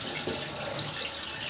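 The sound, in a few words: water running into basement drain stack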